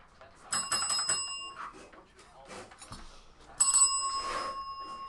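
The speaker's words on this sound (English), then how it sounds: "Oh, the bell's over there." A small desk bell at a sports card box break, struck in two quick bursts of bright ringing dings that trail off, with people talking between the rings.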